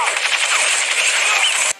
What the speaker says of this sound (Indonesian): akhirnya Andre menembak wanita itu